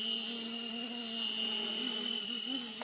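A small RC Era C189 model helicopter hovers steadily at zero throttle, its motor and rotor giving a continuous high-pitched whine with a buzzing, slightly wavering hum beneath, close and unbroken throughout.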